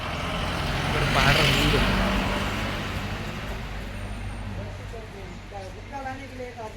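A road vehicle draws near and swells to its loudest after about a second, then its broad rumble fades into steady traffic noise while people talk close by on a trip toward the Tirupati Balaji temple.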